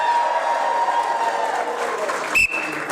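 Cheering and clapping erupt from engineers in a corporate audience scoring a point for their team during a comedian's crowd warm-up, lively and close, with whoops over the applause and a brief sharp tone near the end.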